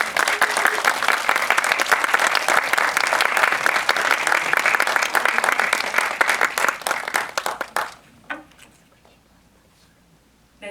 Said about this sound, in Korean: 여러분 강재규 감독님을 큰 박수로 맞아주십시오.